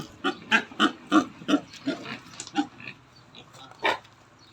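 Native pigs on a small organic farm grunt and oink in a quick series of short, close, fairly loud calls, tapering off, with one more grunt near the end.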